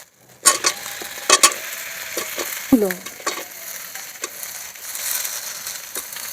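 Papaya fries with turmeric and ginger-chilli paste in a pan under a steady close sizzle, broken by sharp spatula knocks and scraping stirs against the metal; no voices.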